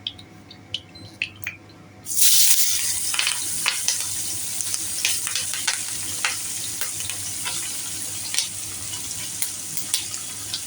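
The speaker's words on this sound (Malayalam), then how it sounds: "മീനിട്ടൊന്ന് നമ്മളൊന്ന് വറുത്ത് കോരുക." Large anchovies hit hot coconut oil with a sudden loud surge of sizzling after a few quiet crackles. The frying then settles into a dense, steady hiss with scattered pops.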